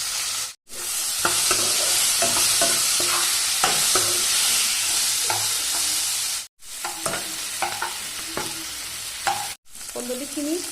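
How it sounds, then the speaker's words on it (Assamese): Ivy gourd (kundoli) is stirred and fried in hot oil with turmeric and salt. A loud, continuous sizzle is broken by frequent scraping and clattering stirs and a few abrupt cuts to silence. "প্ৰথমতে মই এই কন্দলিখিনি দি পেলাই এইখিনি মই অলপ দেৰি ভাজি ল'ম।"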